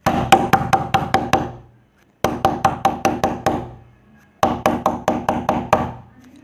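Imitated knocking on a door: three bursts of about six quick, sharp raps each, separated by short pauses, close and fairly loud with no voices in between.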